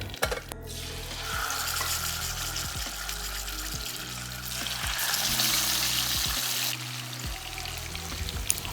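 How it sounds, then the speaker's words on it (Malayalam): Mustard seeds popping in hot oil with a thick milk-based preparation for a quick lunch, a steady loud sizzle with scattered crackles and clatter of stirring, no talking. "ഇനി ഇതൊന്ന് പതപ്പിച്ചെടുത്തിട്ട് ഒന്ന് കടുക് പൊട്ടിച്ചെടുക്കുക."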